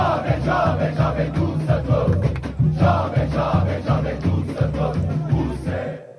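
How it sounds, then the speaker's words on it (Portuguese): Santos football supporters chanting and protesting in the stands, a loud massed crowd repeating a rhythmic chant with steady pulsing drums underneath. "Tá aí a torcida do Santos protestando, né, xingando ali os jogadores"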